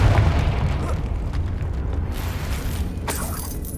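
Blasting-spell explosions from the Hogwarts Legacy video game form a dense, rumbling boom with crackling debris that stays loud throughout and fades slightly toward the end, plus a sharper burst near the close.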